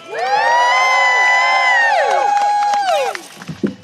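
A crowd at an outdoor political rally cheering loudly for a speaker being introduced, with sustained whoops and shouts from many voices that fade into scattered claps and calls near the end.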